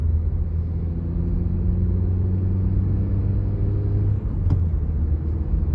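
A manual 2020 Suzuki Swift Sport driving through sweeping curves, heard as a steady low engine drone and road rumble from inside the cabin, holding even pitch with a brief shift in tone near the end.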